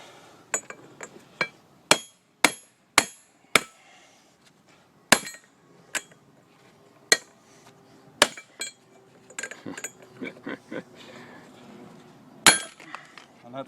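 A hammer strikes a steel pipe while driving a front wheel bearing on a 1998 Mk3 Volkswagen Jetta, sharp metallic clanks landing in irregular bursts, some quick pairs, with quieter taps and faint talk in between.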